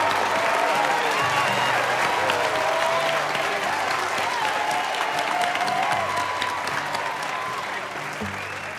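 Sustained applause from an audience at a Christmas carol singing event, steady and full throughout, with a few sung notes and a voice faintly audible over the clapping.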